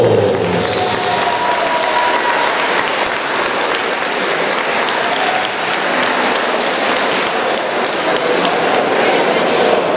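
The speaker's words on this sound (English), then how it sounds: "Both fighters, a big round of applause." A boxing gym crowd applauds a bout that ended in a draw, steady dense clapping filling the whole stretch, loud and close, with some voices mixed in.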